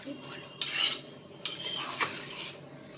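A metal spoon stirs boiling potatoes in a pot of water for aloo posto, giving two or three bright scraping clinks against the pot over a low bubbling background, close and fairly soft.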